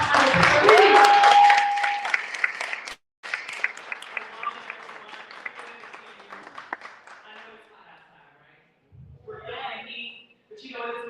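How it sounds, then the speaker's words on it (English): An audience at a college eligibility round table applauding for Trina, a burst of clapping that tapers off over several seconds, with voices speaking at the end. "Can you give a big round of applause for Trina?"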